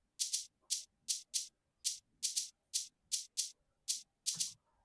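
Shaker sample in an Afro house beat, playing alone as a steady pattern of crisp, bright paired shakes, about a dozen hits spread evenly over a few seconds.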